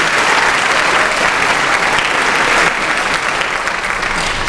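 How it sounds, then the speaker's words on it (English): A high school graduation audience gives a loud, sustained round of applause for a group of graduates, dense clapping from a large crowd that continues unbroken throughout. "A round of applause for this group,"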